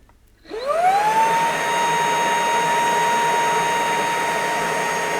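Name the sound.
Shark ICZ300UKT cordless vacuum cleaner running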